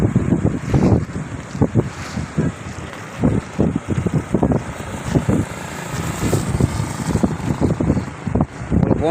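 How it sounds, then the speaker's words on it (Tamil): Strong gusty wind blows by the Kottaikallar bridge during a heavy flood, roaring in bursts and buffeting the microphone loudly, with rushing floodwater noise underneath and no clear speech. "காத்தண்டா சரியான காற்று."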